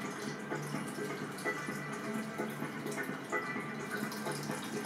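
Liquid trickles and drips steadily through a filter jug, a soft, continuous watery patter close by with faint bubbling.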